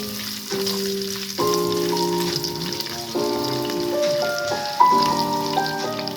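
Ginger sautéing in hot oil as the base for chicken biryani, a steady close sizzle with soft crackle and a few clinks, mixed with background music tones throughout.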